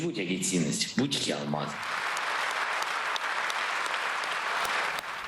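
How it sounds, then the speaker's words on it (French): Loud, sustained applause in the Belgian parliament at the end of a Ukrainian official's speech, rising right after the last spoken words and filling the hall steadily to the end. "discours du responsable ukrainien s'est terminé sous un tonnerre d'applaudissements"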